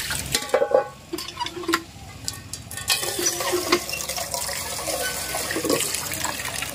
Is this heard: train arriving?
no